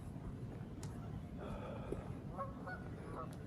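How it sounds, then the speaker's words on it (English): Canada geese honk by a partly frozen lake in a scattered series of faint, distant calls over steady outdoor ambience. "This is the Canadian geese."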